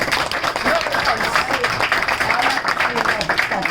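Audience applause and clapping after a talk by a blind scout, a dense continuous patter of many hands with voices mixed in.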